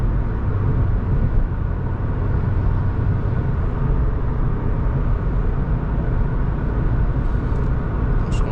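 A car cruises on an expressway in sixth gear, giving a loud, continuous, even cabin drone of engine and tyre noise with no breaks or voices.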